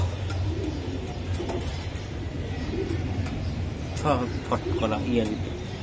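Racing pigeon cooing at close range in a few soft bursts, beneath steady background hum and someone talking.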